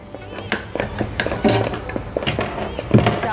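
Egg halwa roasting in ghee in a pan, with a spoon scraping and clinking against the metal in irregular strokes, close and moderately loud.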